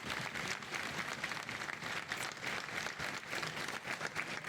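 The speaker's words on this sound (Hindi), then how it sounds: "एक बार कमिश्नर साहब का वेलकम करें और जोरदार ताली से।" A crowd at a municipal employees' gathering applauds to welcome the commissioner, with dense, sustained clapping that stays loud and continuous throughout, with no speech over it.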